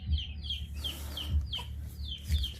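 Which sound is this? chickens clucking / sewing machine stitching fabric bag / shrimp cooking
chickens clucking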